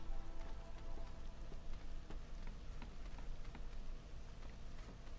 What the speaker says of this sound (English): But it's the beginning of drizzle.